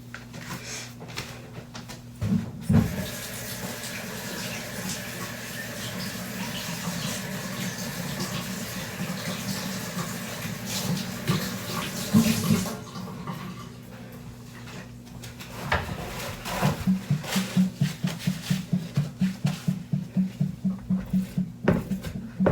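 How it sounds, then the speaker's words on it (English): Hands are washed under a running tap, with a steady rush of water that changes as the hands move through the stream, followed by rhythmic splashing and rubbing near the end. "Let me wash my hands first."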